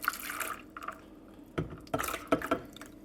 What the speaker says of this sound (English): Just going to pour a little warm water up in here,